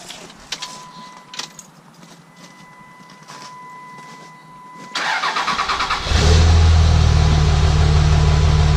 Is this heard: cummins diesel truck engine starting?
yes